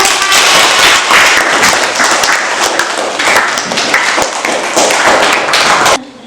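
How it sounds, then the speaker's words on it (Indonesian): Students in a classroom clap together in a dense, loud burst of applause lasting about six seconds, with sharp individual claps throughout before it stops abruptly. "tepuk tangan"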